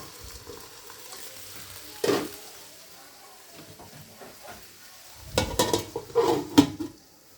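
Vegetables fry in a pan under a low, steady sizzle, broken by loud bursts of a utensil scraping and clattering against the pan, once early and then in a longer flurry near the end.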